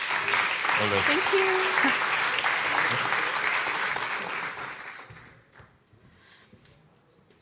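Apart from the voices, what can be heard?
audience applause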